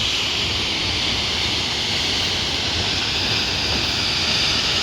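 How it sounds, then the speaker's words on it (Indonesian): A waterfall on the Mount Rinjani trail above Segara Anak lake makes a steady, dense rush of falling water, close and loud throughout, with no voices. "Ini air terjunnya"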